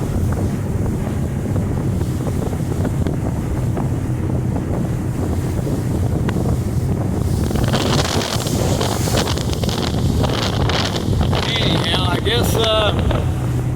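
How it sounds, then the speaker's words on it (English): A 2022 Tahoe 1950 deck boat cruising on a lake at around 35, steady rushing engine, water and wind noise close to the microphone, with a voice talking over it. "I'm going to throttle it back down here to show you what I mean, cruising around 35."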